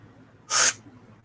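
A single sharp, forceful exhale bursts out like a spray hiss, loud and close, lasting about a quarter second in an otherwise quiet room during a breathing exercise.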